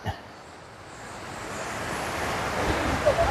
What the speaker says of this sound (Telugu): ఫాల్స్ ఫ్లో మాత్రం వెరీ వెరీ ఫాస్ట్ ఉంది